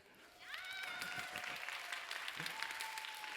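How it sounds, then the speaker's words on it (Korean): Congregation applauding in congratulation at a Sunday youth church service, a fairly faint wash of many hands clapping with some voices mixed in. "평섭과 은혜에게 축하의 박수를"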